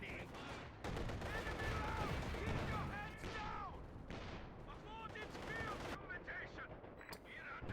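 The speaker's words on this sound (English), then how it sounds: "And we also have the coordinated barrage for the house." Coordinated artillery barrage pounding a house in a video game: heavy rumbling blasts and rattling gunfire fill the clip, loud and continuous, with a commentator talking over it.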